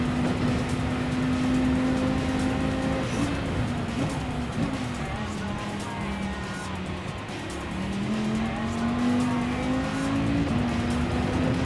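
A Viper race car laps Daytona in a racing video game, its engine droning loudly and shifting pitch as it climbs and drops through gears, with brief tire squeal, close and continuous throughout.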